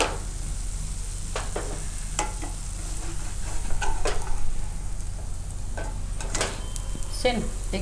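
Wheat handvo batter cooking in oil in a pan, a steady soft sizzle with occasional scraping and clinking of a spatula against the pan.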